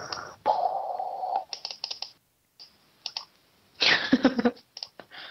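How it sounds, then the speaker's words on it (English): Computer keyboard clicking during an online game session, quick clusters of typing taps in irregular bursts separated by short pauses, fairly close and clear, with no talk over it. "I can hear you clicking."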